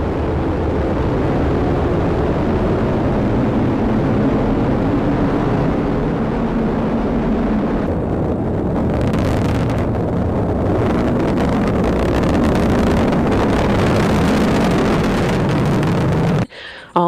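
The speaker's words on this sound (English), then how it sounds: "ignition, and liftoff of Starliner and Atlas V." An Atlas V rocket lifts off carrying Boeing's crewed Starliner capsule, heard as a sustained, loud, broad roar that rumbles steadily for many seconds, full of low-end rumble and wind buffeting, before cutting off abruptly.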